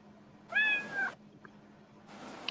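A cat gives a clear, close meow with a rising-then-falling tone, followed by quiet and the start of a second softer meow at the end, over a low steady hum.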